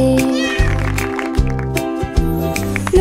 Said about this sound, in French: Le chat ronronnait de joie et de bonheur.